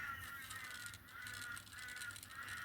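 Magpies call outdoors, a steady chorus of harsh, warbling chatter that carries on without a break, with no voices heard.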